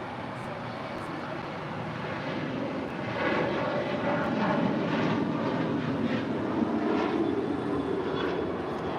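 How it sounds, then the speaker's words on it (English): An American Airlines Boeing 737-800 jet takes off at LAX, its engines a steady, broad roar that swells slightly and holds, heard from a distance without any talk. "That is American Airlines flight 1881 heading to Puerto Vallarta in a 737-800"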